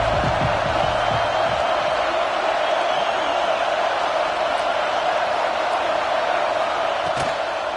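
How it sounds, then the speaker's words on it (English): Stadium crowd at a college football game between UT and Oklahoma, a steady loud roar of cheering sustained throughout with no breaks, with a few brief thuds near the start. "This crowd ready to make its presence known."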